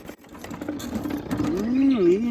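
A honey extractor spins three honeycomb frames, its motor whirring up in a rising and wavering tone as the drum picks up speed, fairly close and loud.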